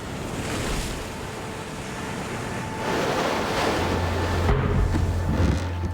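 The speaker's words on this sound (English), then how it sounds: "Big waves are slamming against the side of the boat." Heavy ocean waves slam against the hull of a sailing boat off a deserted Mexican island, a dense, continuous roar of surf and wind with surges building louder midway, no voices.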